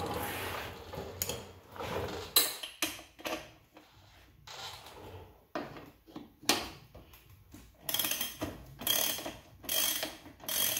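A ratchet wrench clicks in quick bursts of pawl ticks as it loosens the rear axle of a Yamaha V Star 1100 motorcycle with 17 and 22 mm sockets. The stop-start ratcheting sits close by, with brief pauses and clanks between strokes.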